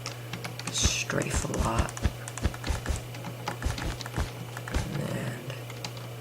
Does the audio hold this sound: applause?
no